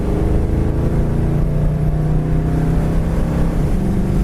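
A 1971 Ford Mustang Mach 1 drives on a wet road, its engine giving a loud, continuous low drone that stays steady from start to finish, with no talking.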